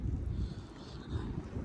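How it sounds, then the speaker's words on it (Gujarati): Strong wind gusting outdoors during a snowstorm, a loud, close, low roaring rumble buffeting the microphone throughout with no voices. "જો હજુ તો જોરદાર પવન ચાલુ જ છે"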